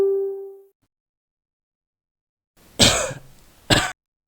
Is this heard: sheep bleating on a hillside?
no